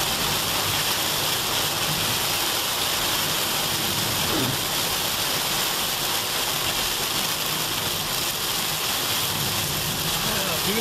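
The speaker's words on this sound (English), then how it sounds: "Heavier rain now." Heavy rain pours down during a stormy Fourth of July drive, a loud, dense, constant hiss drumming on the car with a low engine rumble beneath and no break throughout.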